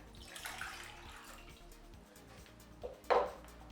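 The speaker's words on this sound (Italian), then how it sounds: "Verso l'acqua in un bollilatte." Water poured into a milk pan, heard as a soft splashing trickle at the start and a brief louder pour near the end, set against faint background noise.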